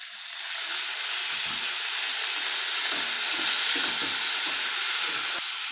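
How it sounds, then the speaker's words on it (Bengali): Water poured into a pan of eggplant curry with green chillies and chopped tomato sets off a loud, steady hiss of steam and sizzle that holds for several seconds, with soft bubbling beneath and no talking. "একটু জল দেব"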